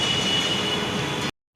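An air-conditioned metro train in Mumbai rumbles steadily along the track with a faint high whine, loud and close, then cuts off abruptly.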